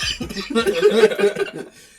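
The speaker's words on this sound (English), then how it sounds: "and I'm coughing" A brief, close burst of coughing, with a couple of rough throat sounds that edge toward a chuckle.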